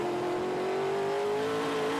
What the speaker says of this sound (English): Let's listen to the sound of that beautiful TA car